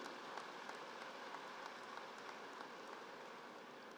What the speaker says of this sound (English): Give a big round of applause for Honorable Chief Minister Sri Naveen Patnaik ji.